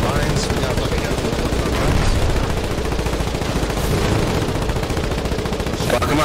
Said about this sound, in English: There's a bunch of machine guns in the lines.